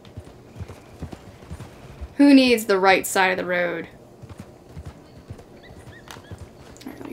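Horse hooves clip-clopping in Red Dead Redemption 2, a steady rhythmic trot close by under a man's speech, with a loud neigh rising briefly in the middle.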